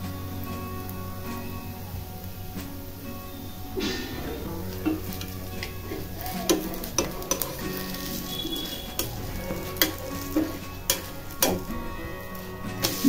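Dosa frying on a pan with oil added on top, a steady soft sizzle with scattered clicks and scraping taps of a utensil against the pan.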